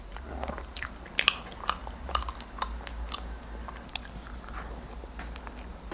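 Someone bites and chews a soft mochi bread filled with strawberry yogurt cream, giving close, wet chewing and a few sharper bite crunches in a quiet room, with no talking.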